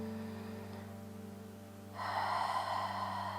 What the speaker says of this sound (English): Deepen your breath.